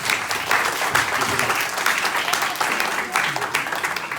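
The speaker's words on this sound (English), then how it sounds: "Une bonne bande d'applaudissements à Wesley." Audience applause at a conference in Lisbon, a dense, steady wash of many hands clapping at close range that runs the full length without any speech.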